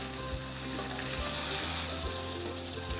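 Chicken sizzling steadily in a hot pan for Mughlai chicken, a continuous close frying hiss with a low hum beneath and a few soft thumps from stirring, no voices.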